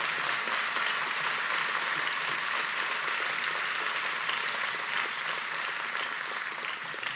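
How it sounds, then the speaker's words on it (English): A convocation crowd of parents and graduates at Sargent College applauds steadily, a dense, even wash of many hands clapping without pause throughout. "Please give them and yourselves a round of applause"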